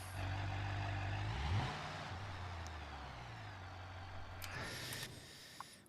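A 1,000-horsepower 1968 Dodge Charger engine in BeamNG.drive idles with a low, fairly quiet rumble. It briefly revs up, then settles back into a steady drone.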